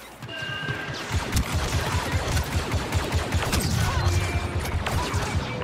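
Blaster fire from an attack on a patrol in Star Wars Battlefront II rattles in dense, loud volleys with impacts and crashes mixed in, and no talk is heard over it.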